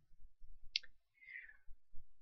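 A single faint, crisp computer mouse click, followed by a soft swishing sound and low background murmurs.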